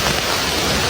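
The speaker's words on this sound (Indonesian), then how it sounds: "Hujan deras loh." Heavy rain pours down steadily as a dense, even hiss with no breaks, filling the whole moment loudly and close by.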